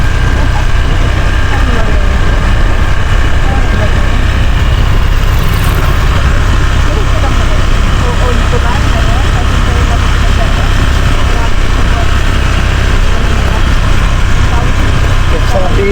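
A motorcycle engine runs with a steady, loud, continuous idling rumble throughout, out in the open near a place where rice hulls are being hauled, with voices talking over it.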